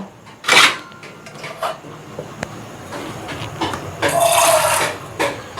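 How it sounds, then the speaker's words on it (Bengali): A little water is poured into a turmeric and Kashmiri chili spice mix in a bowl, two short splashing pours, close and fairly loud, with faint handling clinks between. "পরিমাণ মতো হলুদ, এবারে দিয়ে দেবো অল্প জল"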